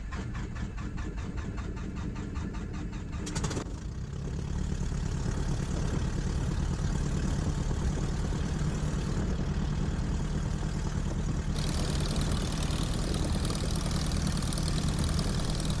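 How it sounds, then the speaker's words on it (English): A Falco F8L light aircraft engine cranks and catches, then settles into a loud, steady idle close by with a brief surge in the middle; no talking. "when I start the engine"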